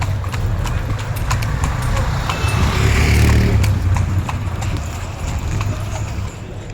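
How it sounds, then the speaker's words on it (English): Horse-drawn carriage hooves clip-clop steadily on the road in Edfu, Egypt, early in the morning, a continuous close rhythm with traffic and voices faintly in the background. "We are going on a horse carriage to the Edfu Temple."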